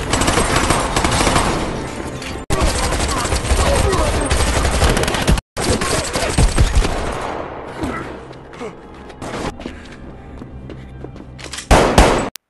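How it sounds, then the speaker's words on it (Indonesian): Sustained bursts of gunfire and machine-gun fusillades from a Korean War film battle scene, loud and dense, with clangs and brief pauses and some voices mixed in. "Karena masih terjadi baku tembak"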